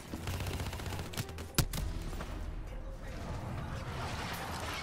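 Gunfire in the Call of Duty Black Ops III video game, a continuous rattle of distant automatic fire with a few sharper nearer shots and one strong crack near the middle, no talking over it.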